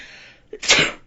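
One close, sharp sneeze with a brief indrawn breath before it and a loud burst, heard alone.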